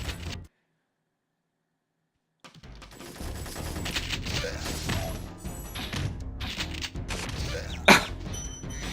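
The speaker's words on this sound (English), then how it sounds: "They have huge freaking machine guns. They're like freaking M60s." Enemy machine gun fire in the Spyro the Dragon video game, dense rattling bursts with crashes and thuds after a short silence, plus one sharp louder hit near the end.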